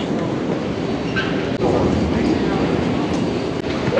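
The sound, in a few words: New York subway 7 train at Times Square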